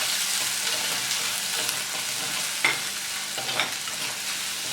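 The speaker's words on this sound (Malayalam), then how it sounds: "ഇനി ഇതിലേക്കൊരു 3 ടേബിൾ സ്പൂൺ ഉള്ളി ചതച്ചതും 1 ടേബിൾ സ്പൂൺ ഇഞ്ചി ചതച്ചും കൂടെ ചേർത്ത് നന്നായിട്ട് വഴറ്റി കൊടുക്കണം." Crushed shallots and ginger sauté in coconut oil for a Kerala fish mango curry, a soft even sizzle with a couple of light stirring clinks, no talking.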